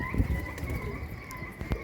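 Pigeons kept on a rooftop loft give soft cooing with faint wing flutters, steady and close, with a low background rumble and no talk.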